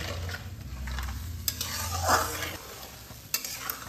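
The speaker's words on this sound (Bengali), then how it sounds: "ঝোলটা ফুটুক" A lentil fritter sour curry broth bubbles in a pan, a soft steady simmer broken by a few brief utensil clinks and stirring scrapes, with no voices.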